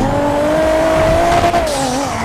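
A car in the GTA V video game with its tires squealing in a long, loud, steady screech that wavers slightly in pitch over a continuous engine roar.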